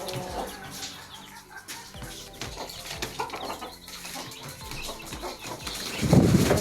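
Backyard chickens, hens with their grown chicks, cluck and murmur in short irregular bursts at close range, with a louder rustle or flap near the end.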